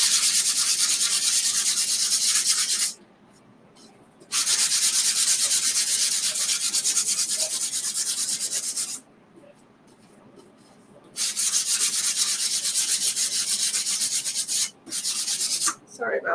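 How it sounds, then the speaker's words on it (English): A wooden rail sign is hand-sanded with long, steady abrasive rubbing strokes, loud and close, interrupted by a few short pauses, with no talk. "let's give it a good sand first, too."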